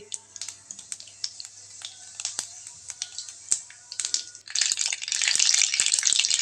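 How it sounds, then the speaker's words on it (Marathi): Mustard seeds and cumin frying in about two ladles of hot oil, crackling and popping in quick irregular bursts that build into a dense, loud sizzle near the end. "तेल तापल्यानंतर मोहरी छान कडकडल्यानंतर त्यामध्ये टाकले मी जिरे"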